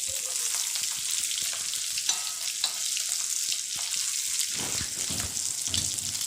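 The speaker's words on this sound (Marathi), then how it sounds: "गरम झाल्यानंतर आतमध्ये आपण मासे सोडणार आहोत आणि हे फ्राय करून घेणार आहोत" Fish sizzling and frying in hot oil in a home kitchen, a steady loud crackle throughout with faint clinks and stirring sounds.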